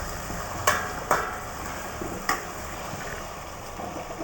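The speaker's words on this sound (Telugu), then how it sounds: "చూడండి ఆయిల్ ఎంత మంచిగా ఫ్రై అవుతుందో." Tomato masala frying in oil in a pan for egg curry, a steady close sizzle with three sharp knocks of a spoon or lid against the pan.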